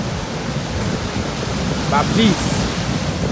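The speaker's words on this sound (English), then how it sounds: "Just sit by and listen to the waves." Sea waves break and wash steadily onto the shore in a continuous, loud roar of surf, with a short spoken phrase barely rising above it.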